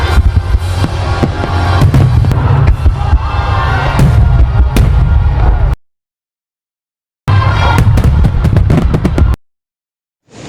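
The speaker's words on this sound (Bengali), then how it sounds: "আমরা একটু আতশবাজি ফুটাতে যাচ্ছি।" New Year fireworks burst loudly and close in a rapid, crackling barrage with a crowd in the background, broken by sudden silent cuts.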